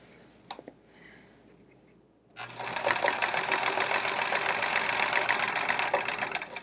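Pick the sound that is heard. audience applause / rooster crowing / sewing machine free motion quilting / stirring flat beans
sewing machine free motion quilting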